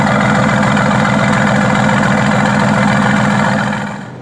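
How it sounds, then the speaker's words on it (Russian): A Mercedes-AMG GT S idles with its exhaust open, giving a steady, loud, deep burbling rumble that holds evenly throughout before easing off slightly at the end, with no one talking. "Вы можете включить выхлоп. Какой выхлоп? Вы, вероятно, удивились. Да-да, тот самый выхлоп. Вот так он звучит просто на холостых."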